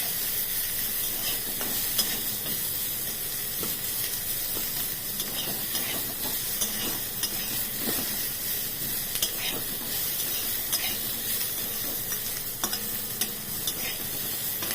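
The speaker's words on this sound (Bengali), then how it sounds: "পুরো বেরেস্তার মতো ভাজবো না, কিন্তু অল্প ভেজে নিচ্ছি" Jackfruit with a little turmeric fries lightly in a pan, giving a continuous close sizzle and hiss with scattered scraping stir strokes and no talk.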